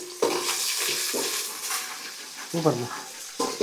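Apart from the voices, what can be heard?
garlic frying in tempering oil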